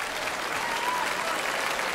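Dense, sustained applause from a packed audience at the National Concert Hall in Dublin following a performance of Verdi's Requiem with orchestra and choral society, steady and full throughout.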